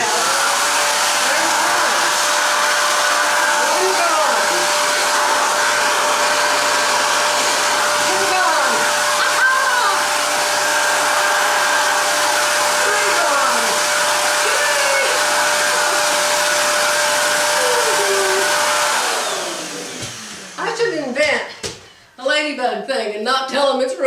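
A handheld vacuum cleaner used to suck up ladybugs drones steadily and loudly for about nineteen seconds, then winds down as it is switched off, followed by a few knocks and brief talk.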